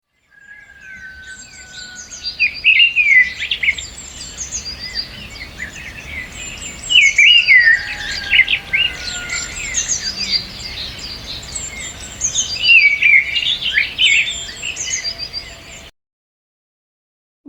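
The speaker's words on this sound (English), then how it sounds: "Bird." Wild birds chirp and trill in busy overlapping calls for about fifteen seconds, with bursts of song swelling and fading above a faint insect-like hiss.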